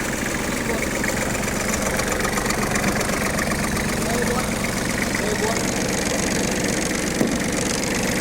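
An old Japanese ISEKI SIAL 243 tractor engine runs nearby with a loud, steady, vibrating chug that never lets up, while people talk over it.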